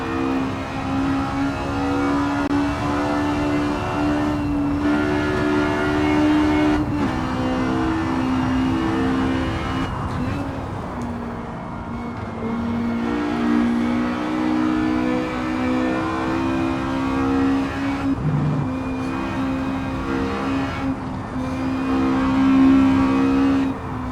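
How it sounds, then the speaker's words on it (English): Race car engine in a 1960s sports car racing game at Riverside, revving high with repeated downshifts that push it nearly to the rev limiter, a loud continuous harmonic engine whine rising and dropping throughout, no talk. "those downshifts, getting it almost on the rev limiter are so satisfying when you get them right"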